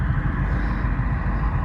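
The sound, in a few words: cars passing on a road at night in Bristol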